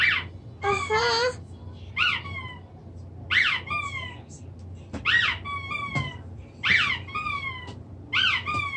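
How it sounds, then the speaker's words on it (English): A squeaky toy is squeezed over and over, each squeeze giving a high, sliding squeal in an uneven rhythm, loud and close over a low background hum. "squeeze it real good so it squeaks"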